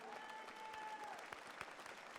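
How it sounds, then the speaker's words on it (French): A crowd at the Bocuse d'Or 2015 prize-giving ceremony applauds, a soft, distant patter of many hands under a faint sustained tone, with a couple of louder claps standing out. "sous vos applaudissements."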